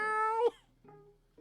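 An indoor house cat meows close by: one long, clear, high meow, then two shorter, quieter meows, with near silence between them.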